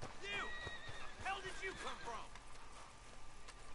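A horse in Red Dead Redemption 2 lets out two or three loud whinnies in succession over hoof clip-clop, with voices from the game mixed in; the ambience then settles to quieter ground noise.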